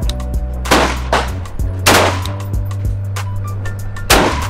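Several 300 Blackout rounds fire from a short 7.5-inch barrel at a 25-yard range, sharp loud cracks spaced irregularly, each with a brief ringing tail, and no voices.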